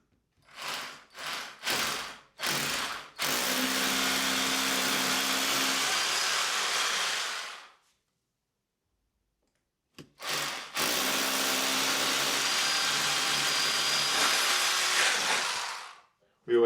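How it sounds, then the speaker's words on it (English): Power drill boring into a wall, several short bursts followed by two long sustained loud whining runs, separated by a pause of near silence. "time to start drilling."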